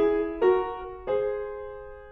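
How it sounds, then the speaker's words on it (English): Two pairs of notes sounding a third apart are struck in succession as parallel thirds. Each dyad rings out clearly and fades gradually, quiet and with nothing else around it. "Parallel thirds would sound like this."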